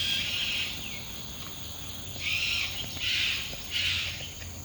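Birds along an overgrown rail corridor give three harsh, screeching bursts of calls over a constant high insect drone, heard outdoors at moderate distance.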